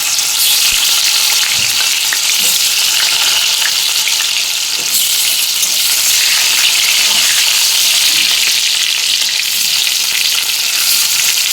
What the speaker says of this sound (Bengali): একে একে আমি আলুগুলোকে ছেড়ে দেবো, দিয়ে লাল করে ভেজে নেব।